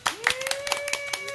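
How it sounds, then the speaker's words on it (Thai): Applause greeting a guest on a Thai live stream: a short burst of clapping, several sharp hand claps in quick irregular succession, close and fairly loud, with a steady tone running underneath. "ขอเสียงปรบมือต้อนรับ"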